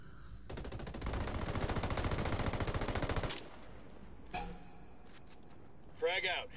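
Rapid automatic gunfire from the tactical shooter Ghost Recon, a long sustained burst of evenly spaced shots that cuts off abruptly, followed by quieter game sounds and brief effects.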